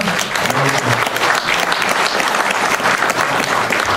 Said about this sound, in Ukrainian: Їй попрошу аплодисменти.